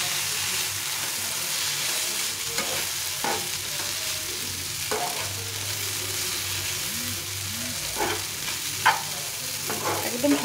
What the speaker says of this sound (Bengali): দিয়ে এটাকে ভালো করে নেড়ে নেব।